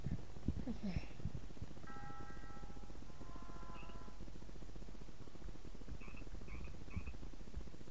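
In the Crossy Road video game, the desert frog character makes short electronic chirps and croaks, faint and repeated at intervals over a steady low hum.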